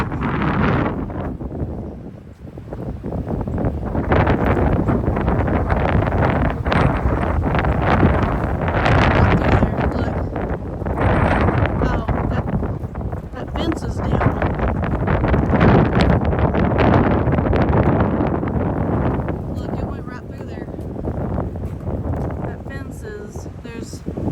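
Strong wind blows hard across the microphone outdoors near tall panels, a loud, rough, surging roar that swells and fades in gusts for the whole span, with people talking intermittently beneath it.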